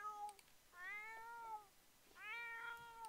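A sick cat in the video game The Sims 4 meows twice, each call a long, clear, wavering cry, close and separated by a short pause, with no talk over it.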